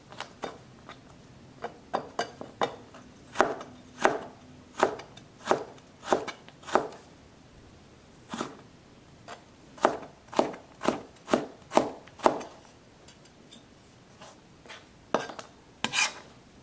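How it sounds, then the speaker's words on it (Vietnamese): A knife cuts a carrot into strips on a cutting board, steady sharp crisp strokes in bursts with short pauses, close up and no talking. "Cà rốt cắt sợi,"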